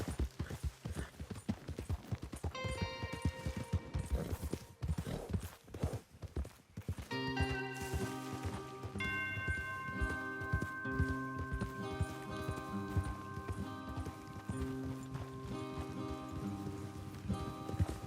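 Horses galloping in Red Dead Redemption 2, a fast, rhythmic clip-clop of hooves throughout, with game music swelling in and a few heavy thuds along the way.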